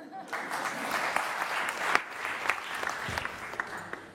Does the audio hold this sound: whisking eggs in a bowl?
no